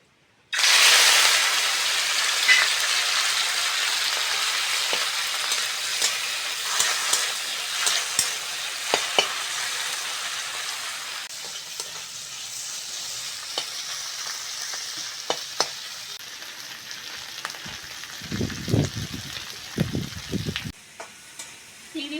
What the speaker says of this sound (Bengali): প্রথমে চিংড়িটা ভেজে নেব হলুদ লবণ মাখানো চিংড়িটা ভেজে নেবো